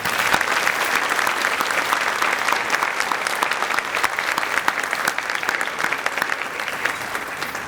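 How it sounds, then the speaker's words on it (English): Sustained applause fills a large room at a youth awards luncheon, dense clapping holding steady and fairly loud from start to finish without speech over it. "Let's give all of them a round of applause."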